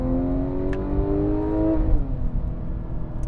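A Porsche 981 GT4 engine climbs in pitch as the car accelerates, then drops sharply with a gear change before pulling again, heard from inside with road noise beneath.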